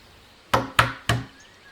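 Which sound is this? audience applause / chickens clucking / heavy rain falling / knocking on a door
knocking on a door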